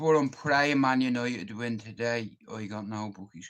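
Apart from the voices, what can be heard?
No everyday noises stand out.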